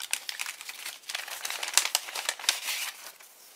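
Small plastic sticker bags from a planner kit crinkle and rustle as they are handled up close, a busy run of crisp crackles that rises and falls with no talking.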